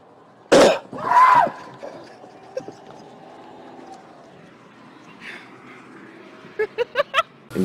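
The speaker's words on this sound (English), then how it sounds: "All right, Jeremy, I'ma cough right now." A sharp cough and a longer raspy cough near the start, then quiet background noise and a quick series of short clicks or taps.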